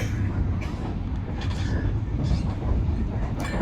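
Inside an additional Ekonomi Kerakyatan economy train running between Jakarta and Jogja, a steady low rumble of the moving carriage rolls on without pause, with faint rattles on top.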